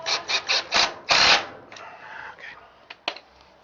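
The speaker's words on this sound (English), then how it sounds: "I'll finish screwing this" Parts being screwed together on the drain system of a Greens bubbler washer: a series of close, rhythmic rasping and rubbing strokes, a few quick ones followed by a longer grinding turn, then fainter scattered scrapes and clicks.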